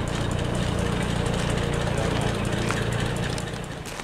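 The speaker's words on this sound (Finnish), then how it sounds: "Sitten on nuo isot moottorit tuossa." Large engines run steadily at a vintage machinery show, a continuous loud mechanical drone and rumble that holds level and then eases off slightly near the end.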